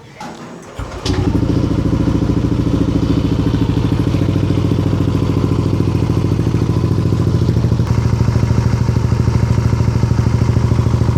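A Yamaha NMAX scooter on its stock muffler starts up and settles into a steady, loud idle, with a dense low engine throb that runs close and unbroken for about ten seconds and nobody talking over it.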